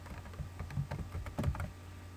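Keystrokes tapped out on a computer keyboard while entering a formula, a quick irregular run of light clicks, close and alone with no talk.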